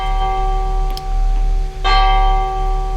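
A bell tolls in the video game Martha is Dead, two distinct strikes ringing out over a steady low hum and tonal drone, with no voices.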